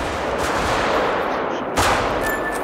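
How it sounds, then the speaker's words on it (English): Dense, continuous gunfire in the hunting game theHunter: Call of the Wild, a loud rattle of overlapping shots in woodland with a sharp burst near the end. "I'm running through the woods just hearing gunshots everywhere"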